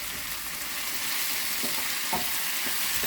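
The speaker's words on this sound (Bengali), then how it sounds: "ডালটা দিয়ে দিলাম, ডালটা দিয়ে ভাজবো, আর একটা টমেটো দিয়ে দিচ্ছি" Dal and tomato frying in a pan, a steady hissing sizzle that stays moderately loud throughout, with occasional soft stirring scrapes and no voices.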